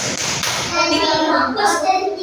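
Classroom children clapping the "tepuk fokus" rhythm routine together, a quick series of close, sharp patterned hand claps among young voices.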